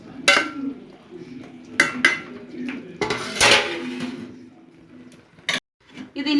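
A lid clanks off a covered pot of Kerala-style chicken curry, with several sharp metallic knocks and scrapes of lid and spoon against the pot, close and separated by quiet gaps.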